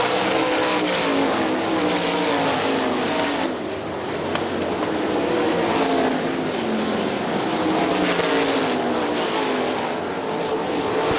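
Sprint cars racing at Hartford Speedway Park in a Great Lakes Outlaw Sprint Series event, a steady loud roar of engines at racing speed that holds nearly unbroken throughout, with no voices over it.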